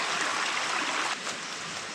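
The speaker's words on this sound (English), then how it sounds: "Man, that water is just barreling out of that one. There's a lot of water." Water gushing hard out of an Appalachian mine entrance, a steady, loud broadband rush with no pauses that drops slightly in level toward the end.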